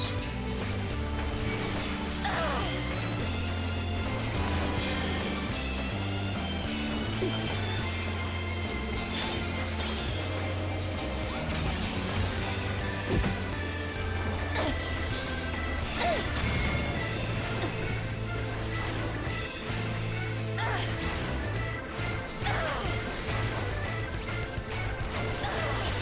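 Missiles exploding in the video game Final Fantasy XIV Stormblood during a normal raid, repeated crashing impacts layered over a constant busy mix of battle effects and music.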